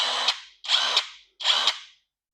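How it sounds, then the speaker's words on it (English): Cerycose cordless impact wrench running in three short bursts, each a loud whirring hammer rattle that ends with a sharp clack, separated by brief pauses; no voices. "this cordless impact wrench from CERYCOSE is very powerful"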